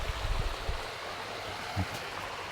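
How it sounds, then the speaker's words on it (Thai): A long, thin waterfall at Phu Pha Thoep in Mukdahan pours in a steady broadband rush, with a few low thumps near the start. "น้ำตกสายยาวนี่ครับ"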